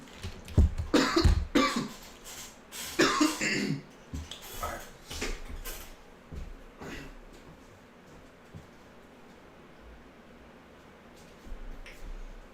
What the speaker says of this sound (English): I got to go clear my throat.